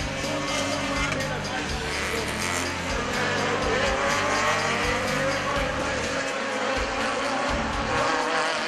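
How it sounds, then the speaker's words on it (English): Race cars, a Honda among them, roar past in a continuous loud engine wash as they climb a hill and speed down the front straight at the Dover, Jamaica race, with a voice talking over the noise. "As they climb the hill and speed down the front straight, Barbados' Mark Thompson was now third"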